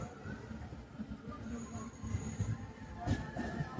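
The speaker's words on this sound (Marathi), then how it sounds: "आता आपली गाडी उरुळी येथून पुढील प्रवासासाठी निघत आहे." A passenger express pulls out of Uruli station on a cold winter morning, heard from inside with a low rumbling roll, soft clanks and a faint hiss that builds slightly as it gathers pace.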